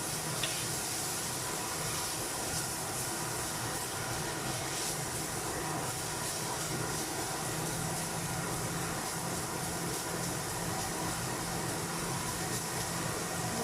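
Pork pieces browning in a pan for a sauté with sweet cider, a continuous loud sizzling hiss that stays even throughout, with no talk.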